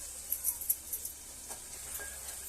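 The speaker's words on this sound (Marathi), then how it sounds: "छान असं व्यवस्थित परतलं ना की आपली फोडणी छान खमंग होते।" Tempering (phodni) sautéed in a pan gives a faint, soft sizzle with a few light stirring scrapes and clinks near the start, then settles to a low hiss.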